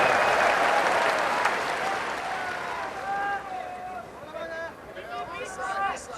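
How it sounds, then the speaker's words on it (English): A large arena crowd at the Pride Fighting Championships Shockwave 2002 event cheers and applauds loudly, then the roar slowly thins while amplified voices ring out over it. "Listen to this crowd"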